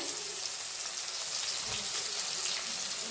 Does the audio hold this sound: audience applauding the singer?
no